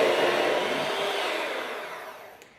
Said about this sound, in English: whisk our egg yolks until they become pale yellow.